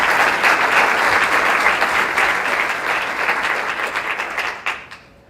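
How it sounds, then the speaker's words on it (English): Dense audience applause at a women trailblazers program, loud and sustained clapping that tapers off and fades out at the end. "So give them a round of applause again."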